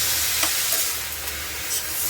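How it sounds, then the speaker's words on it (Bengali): Shredded cabbage frying in a pan as it is stirred, a dense continuous sizzle and hiss with a few soft scrapes, close-up and steady, with no voices. "চলো বাঁধাকপিটা এখন রান্না করে নিচ্ছি।"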